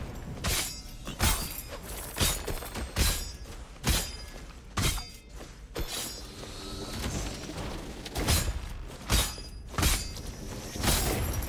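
Explosions and crashing effects in the video game Rogue Legacy 2, a rapid series of sharp loud bursts and shattering impacts repeating roughly every second over busy game sound, no talk.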